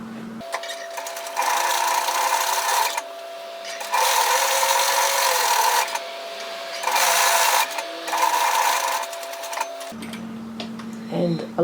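A sewing machine stitches long gathering rows on a tiered dress in several separate bursts, each a steady whirring run with short pauses between. It stops near the end, where a faint voice is briefly heard.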